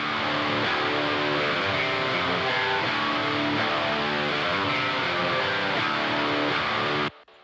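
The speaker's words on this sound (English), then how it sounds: "So number one is the distorted guitars," Dense, continuous distorted electric guitar chords playing steadily and loud for about seven seconds, then cutting off abruptly.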